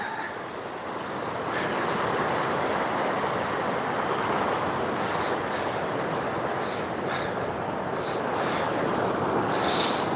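Ocean surf rolls continuously at the estuary mouth at St Lucia, a broad steady roar of breaking waves mixed with wind buffeting the microphone, with no talking.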